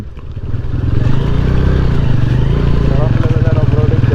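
Motorcycles carrying riders off-road through forest on a hill expedition, a close engine chugging with a steady pulsing rhythm that swells after a moment and holds.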